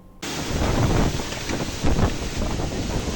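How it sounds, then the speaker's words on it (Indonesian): Strong wind from a storm with heavy rain that damaged houses and toppled trees in Kediri, roaring and buffeting hard against the microphone, loud and continuous after an abrupt start. "angin kencang juga menumbangkan sejumlah pohon"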